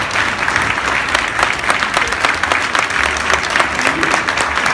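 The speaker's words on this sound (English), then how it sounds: "You ought to give him a hand clap." Audience applause at a fraternity chapter award gathering: dense, steady clapping from many hands, fairly loud and close, continuing without a break from start to finish.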